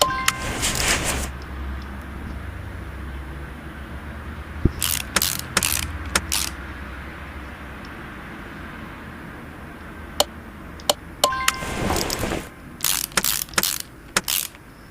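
Ratchet clicks tightening bolts in the Xbox One game Car Mechanic Simulator, worked on a Specter Fastback: short bursts of quick mechanical ticking, clustered in several separate runs with quiet gaps between, fairly close and crisp.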